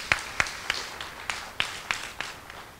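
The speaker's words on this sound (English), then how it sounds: "You deserve a round of applause for that." At the Maxi Ball 2015, a small audience gives a faint, sparse round of applause: roughly eight separate claps, spaced irregularly.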